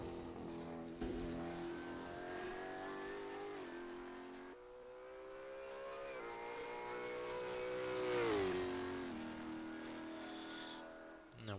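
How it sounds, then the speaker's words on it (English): A Supercars race car on a qualifying lap swerves side to side to warm its tyres, and its engine drones steadily with rising and falling revs throughout. The engine sits under commentary. "we're seeing Hall just throughout the lap just warming his tyres, swerving side to side"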